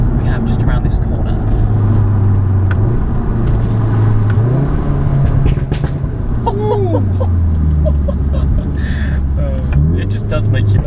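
A Volkswagen Golf R with an Akrapovic exhaust drives on back roads, its exhaust drone rising and falling as it accelerates through the revs. The drone is heard from inside the car under steady road noise, with a voice speaking over it.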